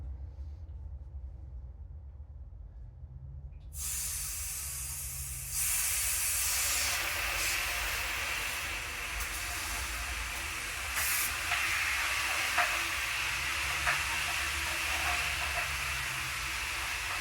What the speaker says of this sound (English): just a garden hose and I'm going to rinse it like 2 times and then drain it out